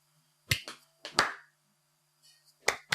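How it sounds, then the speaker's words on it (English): A few sharp, isolated hand claps or snaps from one person in a quiet room, irregularly spaced with short gaps between them. "and I'll clap"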